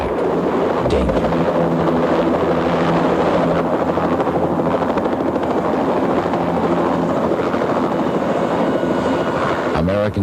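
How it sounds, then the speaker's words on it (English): A military helicopter's engine and rotor thump steadily and loudly throughout, a dense continuous drone with some wind noise. "thumping sound of the chopper's engine was like music to the men below"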